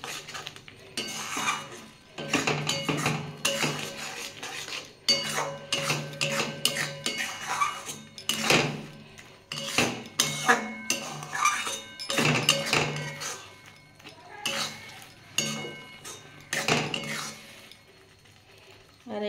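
Raw green mango mixture stirred in a metal pan for sweet-sour-spicy laddoos, a spoon scraping and clinking against the pan in busy, continuous bursts for the whole stretch.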